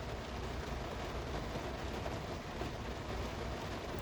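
Steady rain falling outdoors on a Saturday, a constant soft hiss and patter at moderate level with no gaps, heard alone without voices.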